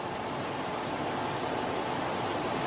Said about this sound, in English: notice the calming white noise of that constant water running